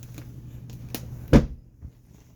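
The bed lid of a 2015 Jayco Eagle camper is pressed down shut, landing with one solid thump after a few light knocks and clicks, followed by a softer settling bump in a quiet interior.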